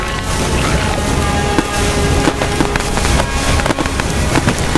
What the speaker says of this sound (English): Is everybody enjoying the fireworks?